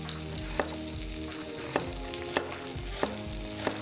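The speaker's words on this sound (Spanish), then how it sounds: "Este es el momento perfecto para colocar nuestras piezas de pollo. Mientras se sella" Chicken leg and thigh pieces sear in a hot pan with a steady, close, crackling sizzle, punctuated by about five sharp clicks from the pieces being nudged or turned.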